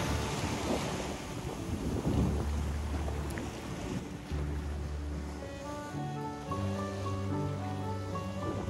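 Ocean waves wash ashore by the sea in southern Taiwan under steady wind buffeting the microphone, with a faint low drone running through the continuous surf.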